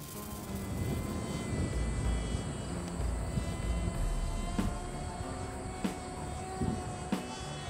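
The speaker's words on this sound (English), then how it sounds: "watch the plane itself make the turn" A DIY UAV model airplane flies steadily and banks through a turn toward a waypoint, its engine making a continuous drone that holds at a moderate level from start to finish, with a few faint ticks heard along the way.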